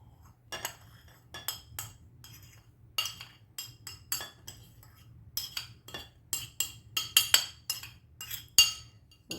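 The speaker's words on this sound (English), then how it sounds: "Let's go ahead and put it all in one bowl and get it stirred up." A spoon clinks repeatedly against a bowl while stirring a chicken seasoning mixture with brown sugar, quick irregular metallic taps close by over a low steady hum.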